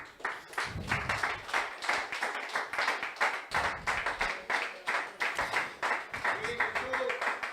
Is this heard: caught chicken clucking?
no